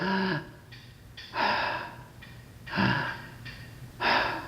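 A person breathes slowly and audibly, with each inhale held in a brief pause before the exhale, in a close, regular pattern of about three breaths with no talk.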